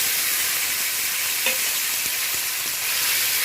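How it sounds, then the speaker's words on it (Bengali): Onion, tomato and green chilli hit a fennel-seed tempering for egg curry, producing a loud, unbroken hissing sizzle with a few soft stirring taps. "এবার আমি পেঁয়াজ টমেটো কাঁচা লঙ্কা দিয়ে দিলাম"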